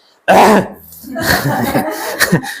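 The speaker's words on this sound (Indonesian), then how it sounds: "Batuk pula dia." A loud, close cough bursts out during a religious lecture on prayer, followed by a voice speaking right afterward.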